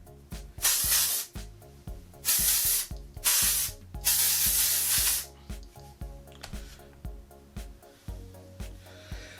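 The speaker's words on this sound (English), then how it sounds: "So I'm just going to spray that into my hair." Several short bursts of OUAI hair spray hiss close by, separated by pauses, over a background of music.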